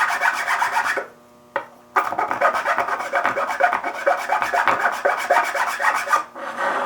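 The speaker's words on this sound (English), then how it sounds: "I'm just going to take a file and get each side smooth" Cut PVC pieces are filed smooth with a hand file, a close, rapid rhythmic rasping of back-and-forth strokes that pauses briefly twice, with no talking.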